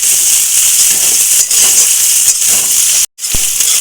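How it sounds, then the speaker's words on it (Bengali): Sliced onion sizzles in hot oil in a pan while greens wait to be added, a loud continuous hiss and crackle with brief spits and a momentary break. "এবার আমি পেঁয়াজটা দিয়ে দেবো। পেঁয়াজটা একটু হালকা ভেজে শাকগুলো দিয়ে দেবো।"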